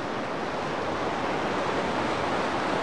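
A river current rushes past large rocks and a bridge pillar in the Chilean Andes near Almagro, making a loud, steady, unbroken roar of flowing water with no talk.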